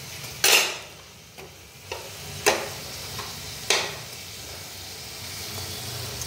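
Gulab jamun made from red potatoes frying in oil, a low steady sizzle broken by a few sharp clinks of a utensil stirring the pan.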